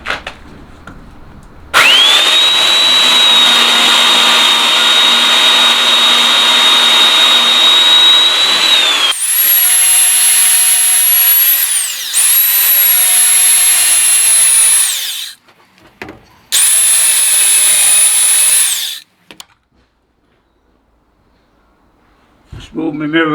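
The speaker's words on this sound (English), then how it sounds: "I'm just going to cut some slices across with a chainsaw" A chainsaw cutting slices into rotten wood on a garage door frame roars loudly in several long bursts, its engine note rising and falling between cuts, with brief pauses and quiet stretches near the end.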